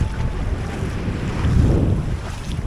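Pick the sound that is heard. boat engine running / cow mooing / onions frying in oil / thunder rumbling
boat engine running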